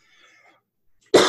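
A single sharp cough bursts out near the end after about a second of near silence, loud and close, with faint background hum before it.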